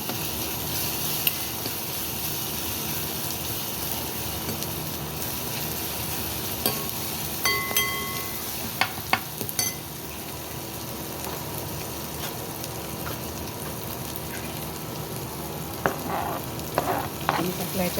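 Asafoetida hits hot oil while raw jackfruit curry is being cooked, producing a continuous close frying sizzle with scattered crackles, pops and a few clinks of a utensil.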